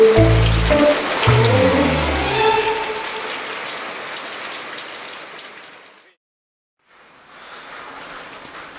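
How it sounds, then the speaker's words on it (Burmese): Steady rain pours on trees in a dense, close hiss, with a few low thumps early on, cutting out briefly before the downpour resumes. "မိုးရွာနေတာရှင်"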